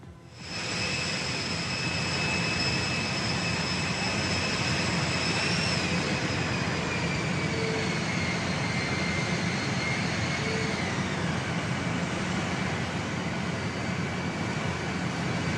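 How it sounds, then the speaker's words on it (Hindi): A jet engine on the new Air Force One aircraft gifted by Qatar makes a loud, steady roar with sustained whining tones, some gliding slightly in pitch, and continues unbroken throughout. "आपको याद होगा एयरफोर्स 1 का यह नया विमान ट्रंप को कतर ने तोहफे में दिया"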